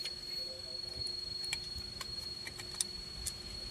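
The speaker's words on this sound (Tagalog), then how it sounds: "Ay, kuliglig." Crickets chirp in a continuous high, steady trill, faint and unbroken, with a few soft clicks and ticks now and then and no one speaking.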